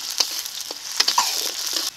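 Chopped onions frying in a pan with bay leaf and whole cumin, a steady close hiss of sizzling oil with a few brief stirring scrapes.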